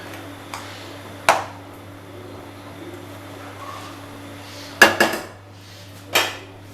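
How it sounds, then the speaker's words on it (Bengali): Koftas dropped one by one into a pan of simmering gravy while making nargisi kofta curry, giving a few distinct clinks and knocks of utensil against pan over a steady low kitchen hum, with no talking. "এবার আমি এই কোপ্তাগুলো আস্তে আস্তে ছেড়ে দেব"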